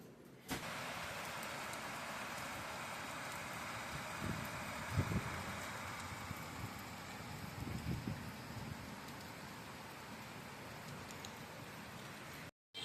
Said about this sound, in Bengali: এই যে দেখুন বৃষ্টি তো হচ্ছে তো হচ্ছে